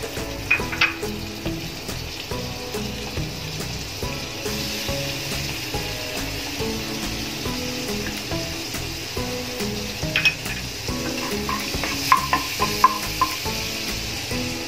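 Butter melts in a pan for spinach soup, giving a soft, steady sizzle with occasional light clinks and taps of a utensil against the pan throughout.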